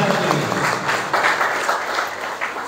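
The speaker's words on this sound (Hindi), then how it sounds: "भरपूर तालियां" Audience applause at a speech to overseas Pakistanis in Bahrain, a short burst of dense clapping that stays loud and steady for a few seconds.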